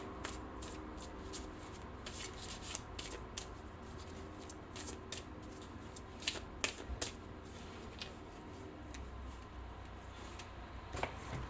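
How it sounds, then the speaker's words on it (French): A card drawn from a deck during a French prediction reading, heard as soft, quiet shuffling and flicking of cards with small scattered taps and clicks, close and alone against a faint background hum. "Allez, je vais tirer une autre carte."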